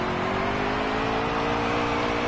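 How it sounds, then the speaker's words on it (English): A car in a racing video game does a burnout, its engine revving in one sustained, loud, steady drone with a constant whirring hum and no talk. "I'm still getting used to the burnouts in this game."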